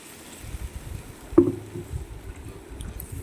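Hot water poured into a pan of spice-fried mustard hilsa curry, with the washed spice bowl's water added: one sudden splash near the middle, then a low, steady simmering wash, with no talking.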